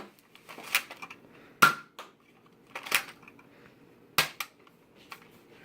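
A Nerf Accustrike dart blaster fires darts in four sharp snapping bursts at irregular gaps, each crisp and close, with faint handling noise between shots.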